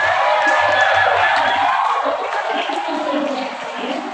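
Children at a school Ramadan gathering applaud together, a dense crackle of clapping with some cheering voices, loud and sustained before tapering slightly.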